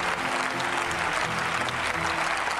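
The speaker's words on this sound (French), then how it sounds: "Les gens ont commencé à m'applaudir." An audience breaks into dense, steady applause at a contest in Paris, the clapping sustained and even throughout.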